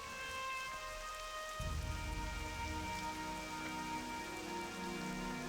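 Steady rain patters over a stormy ambience in World of Warcraft Classic, continuous and dense, with a low rumble swelling in partway through and sustained tonal background music underneath.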